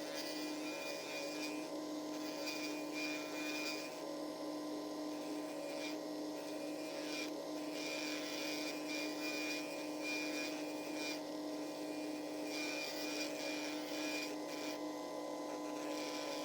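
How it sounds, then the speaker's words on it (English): Steady drone of a vacuum suction machine running during electric nail filing, with a constant hum and a higher buzzing whine that rises and falls slightly throughout, close and continuous. "I'm using a vacuum suction machine."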